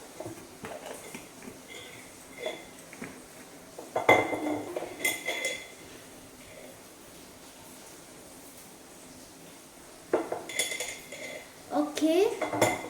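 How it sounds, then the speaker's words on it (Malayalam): A spoon stirring and scraping biryani ingredients with salt in a metal pot, with clustered clinks and scrapes in bursts separated by quieter stretches, heard up close. "എല്ലാം നല്ലോണം ഒന്ന് മിക്സ് ആക്കി കൊടുക്കുക."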